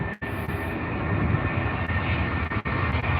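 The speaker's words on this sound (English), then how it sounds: "It's your favourite plane, Braden" A British Airways airliner at London Heathrow gives a loud, steady roar that holds for the whole stretch, a broad sustained engine rumble with no talking.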